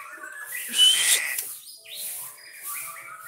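A white-rumped shama (murai batu) sings nearby in short bursts of clear whistles and quick chirps, with brief pauses between the phrases.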